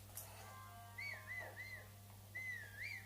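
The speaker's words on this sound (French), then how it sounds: "Je sais même pas comment j'ai fait pour siffler." Whistling by the player character in Zelda: Breath of the Wild, two short melodic whistled phrases over a low steady game hum, clear and fairly close.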